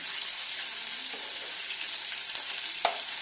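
Katla fish pieces frying in oil, a constant even hiss of sizzling with a few small pops and a faint clink, nothing else over it.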